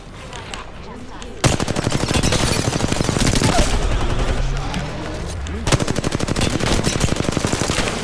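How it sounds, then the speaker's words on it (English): Automatic gunfire in a video game rattles in long rapid bursts, loud and close, with a brief pause before the firing resumes, while players talk over it. "Shot fired."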